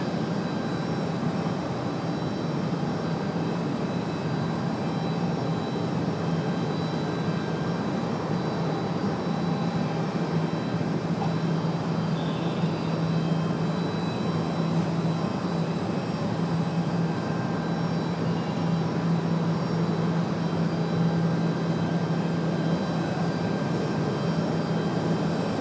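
Delta flight 1518 airliner at Raleigh-Durham International gives off a loud, unbroken jet engine roar with a steady low hum throughout, no voices over it.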